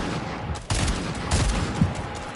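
Gunfire in Fortnite, a few sharp bursts of shots cutting in over a busy game background, loud and close with brief gaps between volleys.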